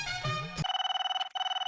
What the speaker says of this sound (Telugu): ఒక్క నిమిషం బాబు, ఫోన్ వస్తుంది.